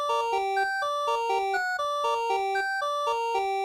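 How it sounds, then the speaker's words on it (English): A synthesized pipe organ patch on a Casio VL5 keyboard plays a bright, beepy repeating melody of short sustained notes in a steady rhythm, close and clear with no voices. "This is what a synthesized pipe organ might sound like."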